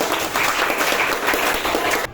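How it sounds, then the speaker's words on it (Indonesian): A classroom of students applauds during a lesson, a steady patter of many hands clapping for about two seconds before it cuts off abruptly. "Kasih aplaus dulu."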